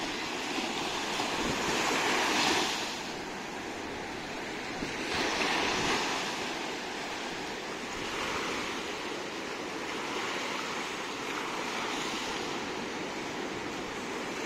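Pacific Ocean surf on an Australian beach near Sydney washing in and out in slow swells, a broad steady hiss with a few louder breaking surges, heard from nearby without voices.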